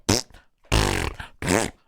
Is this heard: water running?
no